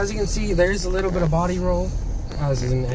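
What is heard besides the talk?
No everyday noise stands out behind the speech.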